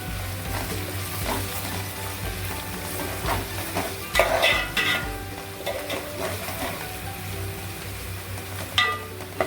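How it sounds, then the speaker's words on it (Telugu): Green chillies fry and sizzle steadily in a hot pan for a fish curry, with scraping stirs and louder bursts of spitting oil partway through and near the end. "పచ్చిమిర్చి వేసిన తర్వాత కొంచెం జాగనివ్వాలి."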